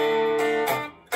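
Several notes struck at once ring out together in a short, dense cluster, sustaining briefly before a couple of fresh attacks cut in.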